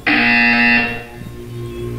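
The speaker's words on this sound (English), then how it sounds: "You will hear a buzzer." A loud electronic buzzer from the Portal 2 video game sounds once, a steady harmonic tone that holds for most of a second and then cuts off, leaving quieter low hum behind it.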